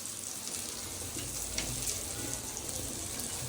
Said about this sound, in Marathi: तवा थोडासा जाडसर असेल तर मच्छी खूप अशी मस्त मंद गॅसवरती खूप छान भाजते